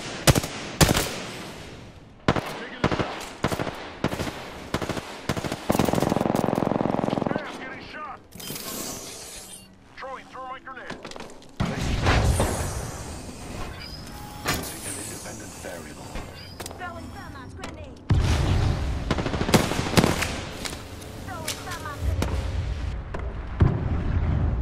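Gunfire in a battle royale video game: repeated bursts of rapid automatic shots and single cracks, loud and close, with speech over parts of it.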